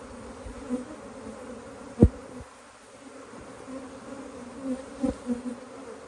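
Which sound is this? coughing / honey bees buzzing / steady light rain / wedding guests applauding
honey bees buzzing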